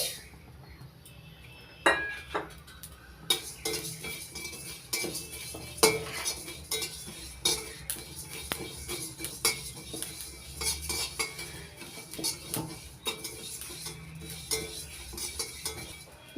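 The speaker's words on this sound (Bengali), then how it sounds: "দুই চামচ জিরে দুই চামচ ধনে দুই চামচ মৌরি একসঙ্গে ভেজে নিচ্ছি" Cumin, coriander and fennel seeds dry-frying together in a pan, heard as quiet, close metallic clinks and scraping from stirring with a utensil, the clatter repeating irregularly throughout.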